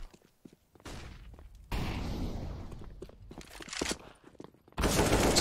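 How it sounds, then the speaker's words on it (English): Rifle fire in a Counter-Strike match on Dust 2: rapid automatic spray bursts, loud and close, with dense clattering shots clustered in several bursts and no talk over them. "Sprays in from Edward."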